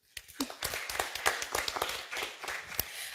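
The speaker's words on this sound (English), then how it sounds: "Give yourselves a round of applause." A small gathering of candidates gives themselves a round of applause, a scattered, fairly quiet patter of individual claps lasting a few seconds.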